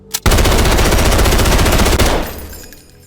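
SAR 556 light machine gun in a VR video game fires a loud, sustained automatic burst of rapid, evenly spaced shots lasting about two seconds, then cuts off into a fading tail.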